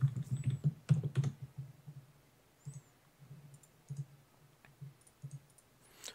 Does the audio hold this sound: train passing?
no